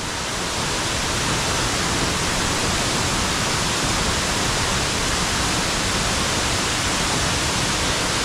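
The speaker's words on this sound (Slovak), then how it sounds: "Vodopad Fiji." Fiji waterfall on Bali roaring steadily with a dense, broadband rush of falling water, loud and close, unbroken for the whole stretch with no voices.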